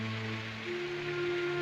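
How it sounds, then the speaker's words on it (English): Heavy cartoon rain pours steadily outdoors, a dense continuous hiss with a faint low tonal hum underneath, no voices. "Oh, look, now it's pouring outside."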